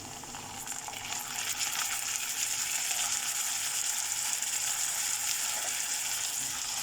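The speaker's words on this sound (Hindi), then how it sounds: "अब इसे फ्राई करना है कि जिंजर गार्लिक का स्मेल ख़त्म हो जाए" Onion frying with ginger garlic paste in a pan, a loud, continuous close-up sizzle that builds after the first second and holds steady, no voices.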